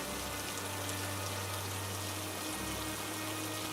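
Steady rain falls in a dense, even hiss that does not let up, with a low hum running beneath it.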